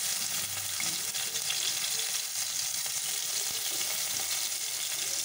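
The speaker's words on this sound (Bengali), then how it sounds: "এটাকে ভেজে নেব ভালো করে।" Chopped bitter gourd (karela) fries in hot oil, giving a steady, dense sizzle close up throughout with no talking.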